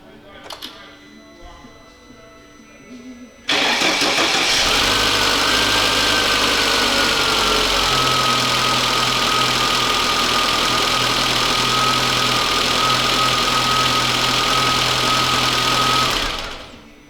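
A Lada Niva engine fires up a few seconds in, with its hydraulic lifters bled, and runs loud and steady, a constant mechanical drone with a faint tick, before cutting off near the end; there is quieter background noise before the start.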